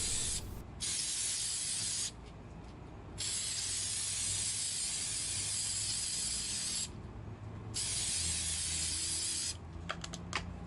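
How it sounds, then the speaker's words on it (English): Shellac clear coat sprayed onto a stenciled wooden Route 66 sign in bursts: a steady close hiss, broken by two brief pauses, followed by faint clicks at the end. "here I'm using shellac to clear coat it."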